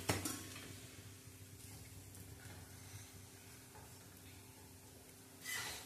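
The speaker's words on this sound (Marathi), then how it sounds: "दुसरा पण मस्त असं तेलावरती मी खमंग भाजून घेतलेला आहे" Potato and wheat paratha frying in oil in a pan, a steady close sizzle with occasional scraping and clinks of a spatula against the pan, quiet and continuous with no talk.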